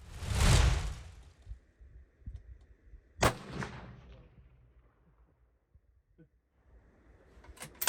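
Rifle shots captured on camera with a very sensitive trigger: a loud sharp crack at the start, a second distinct report around three seconds in, and a third sharper burst at the very end, with quiet gaps between.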